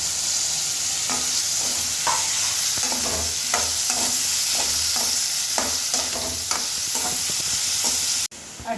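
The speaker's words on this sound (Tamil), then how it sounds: "அடுத்து மஷ்ரூம் சேர்த்துக்கலாம். மஷ்ரூம் சேர்த்துக்கிறேன்." Mushrooms added to softened tomatoes fry in a pan with a continuous sizzle, while a spoon scrapes and stirs in frequent rhythmic strokes close by, with no talking.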